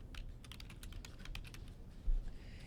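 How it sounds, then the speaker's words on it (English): Computer keyboard typing: a run of quick, close key clicks entering a short label into a spreadsheet formula, a few light taps in an uneven rhythm over a quiet room hum, ending on one heavier thump. "We type total cost"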